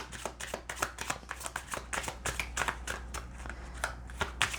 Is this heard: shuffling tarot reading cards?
yes